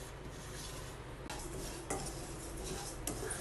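Sesame seeds and melon seeds dry-roast together in a pan, a faint continuous rustling hiss with occasional spoon scrapes and light metallic clicks as they are mixed, quiet and close with no speech.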